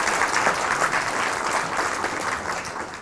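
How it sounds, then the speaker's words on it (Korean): A big round of applause from the audience at a fashion forum panel seminar, dense steady clapping filling the room for about three seconds with no talk over it. "큰 박수 부탁드립니다."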